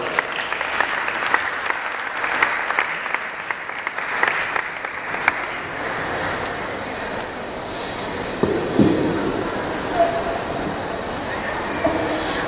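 An audience at a solemn commemorative event applauding loudly, a dense, sustained wash of clapping that carries on for several seconds and gradually thins toward the end.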